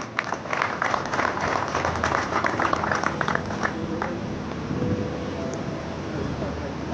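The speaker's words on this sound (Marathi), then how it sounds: "प्रशांतसाठी जोरात टाळ्या होते." Audience applause for carrom world champion Prashant More at a Ratnagiri Carrom League event, a dense burst of clapping that gradually thins and softens over several seconds.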